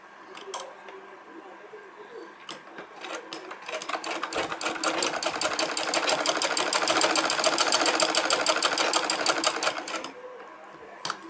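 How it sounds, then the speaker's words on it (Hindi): An electric sewing machine runs a line of stitching through cloth for a pooja seat, a fast steady mechanical chatter that builds louder toward the middle and then stops. "अब ये सिलाई हमने लगा ली तो चारों ओर एक सिलाई लगा लेंगे फिनिशिंग के लिए।"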